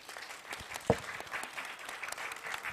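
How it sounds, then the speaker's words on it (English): Applause at a conference panel session, a soft, scattered patter of clapping from the audience with one sharper, louder clap standing out near the start, heard from some distance. "a round of applause for these wonderful folks"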